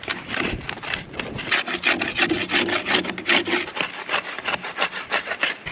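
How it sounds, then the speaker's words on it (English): Bamboo edge being sharpened for fire making outdoors, a close rhythmic rasping scrape repeated in quick strokes that continues steadily with no talk. "Sharpen this edge."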